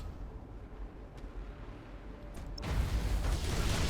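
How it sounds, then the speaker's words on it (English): Mines detonate in the space strategy game Battlefleet Gothic: Armada 2, a rumbling mechanical drone building into a loud, broad explosive roar that swells near the end. "Tell them to detonate the mines."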